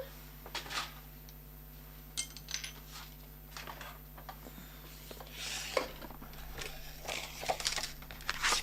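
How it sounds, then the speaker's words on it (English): A Stampin' Cut and Emboss machine is dragged across a craft table. It gives faint scattered clicks, rattles and mechanical clunks over a low background hum, with no talking. "I'll pull over my Stampin' Cut and Emboss machine."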